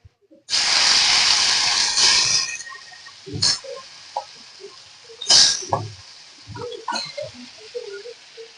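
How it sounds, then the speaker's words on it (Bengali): Fish pieces dropped one by one into hot oil, giving a loud burst of hissing sizzle for about two seconds, then fading into scattered pops and crackles. "এই পর্যায়ে আমি একে একে মাছগুলো দিয়ে ভেজে নেব"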